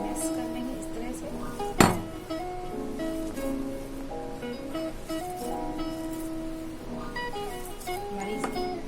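A spoon stirs Veg Manchurian mixture with flour in a bowl, giving repeated light clinks and scrapes with one sharper knock early on, while a voice talks over the kitchen sounds.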